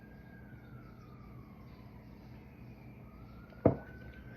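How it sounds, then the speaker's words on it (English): A distant emergency vehicle siren wails faintly and steadily in the background, its tone slowly sweeping, with a single sharp knock close by near the end. "the sirens are going"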